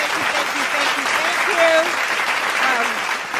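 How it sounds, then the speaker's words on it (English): A crowd applauds steadily and fairly loudly, with voices and cheers riding on top of the clapping throughout. "We're gonna clap again."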